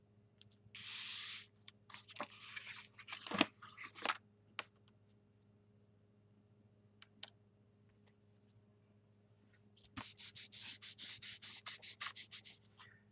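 Glued paper being rubbed down onto a junk journal page by hand, coming as short bursts of close, dry rubbing with quiet taps between, then a longer scrubbing run near the end.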